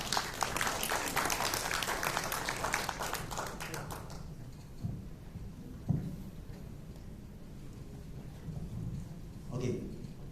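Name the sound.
audience applause at a client gathering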